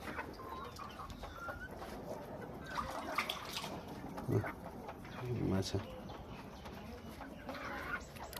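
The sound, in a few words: Giriraj chickens clucking while eating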